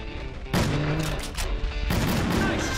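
Gunshots in the hunting video game Cabela's Dangerous Hunts 2011: dense, loud bursts of rapid firing that fill the clip, with only brief lulls and no clear talk.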